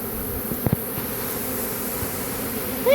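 Honeybees buzz around an open beehive during a beekeeping inspection, a dense continuous hum with a few close passes of individual bees, with no voices over it.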